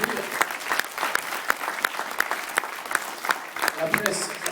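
An indoor audience at a French National Front public meeting for the 2015 regional elections breaks into sustained, dense applause, with scattered voices mixed in.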